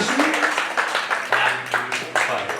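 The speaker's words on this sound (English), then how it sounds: "round of applause for these four as well from the second round of the original music session" A room full of people applauds four guitar club performers after an original music session at a restaurant. The dense clapping holds steady throughout, swelling in a few bursts, with voices mixed in.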